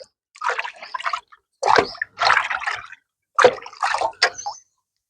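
Water mixed with soaked coconut oil cake being poured onto soil around a grape vine on a terrace garden, heard as three close bursts of splashing, gurgling liquid separated by short pauses.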